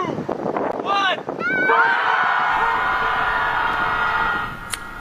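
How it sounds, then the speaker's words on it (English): A group of people screams together into the open air on the Lake Michigan lakefront in Chicago, a loud sustained wall of voices over wind noise after a few short shouts. "collectively scream into the open air over Lake Michigan"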